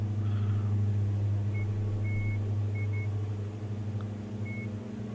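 Short, faint electronic beeps sound several times, irregularly spaced, above the steady, loud engine drone of a DA42 aircraft in MSFS 2024 at Compton Abbas.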